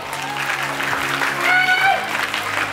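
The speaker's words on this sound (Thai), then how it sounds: "เสียงปรบมือหน่อยสิครับคุณผู้ชมในห้องส่งของเราครับ" Studio audience applauding at the Miss Grand Surin 2023 preliminary traditional costume round, steady clapping of a moderate crowd under a host's voice and background music.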